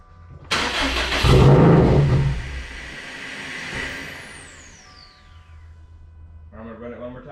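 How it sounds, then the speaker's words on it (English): A Subaru STI engine cranks and catches with a loud burst, settling into a steady idle that slowly fades, with a brief voice near the end. "So now let's start the car."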